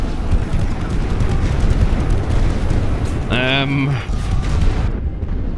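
Artillery barrage in the strategy game The Great War: Western Front, heard as a continuous loud rumble of explosions throughout, with a brief tonal horn-like sound midway and a voice talking over it.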